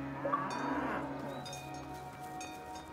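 Cows in a souls-like dungeon crawler video game moo in a drawn-out low call, fairly close and steady, over faint game ambience with no talking.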